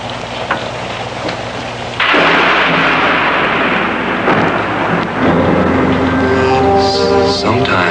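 A thunderstorm with rain roars steadily, loud and broadband, then swells into a heavier rumbling wash of thunder and downpour from about two seconds onward, with faint tonal sounds near the end.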